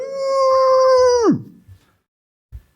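A voice imitates a dog howling, one long steady tone that bends sharply downward and stops, followed by a couple of faint thumps, loud and close.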